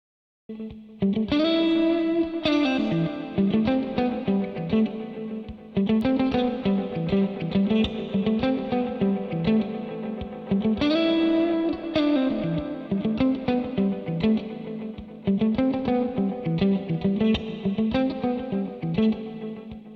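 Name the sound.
guitar through reverb and delay pedal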